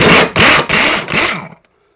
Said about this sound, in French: la clé à choc pour défaire, la clé plate pour retenir